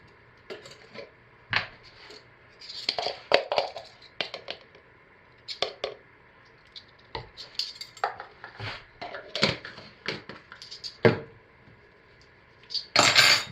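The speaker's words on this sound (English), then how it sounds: "Give it a hand stir" Soap batter for black raspberry vanilla cold process soap stirred by hand in a container, giving repeated clinks and scrapes of a utensil against the sides in irregular bursts, close and fairly loud with short quiet gaps.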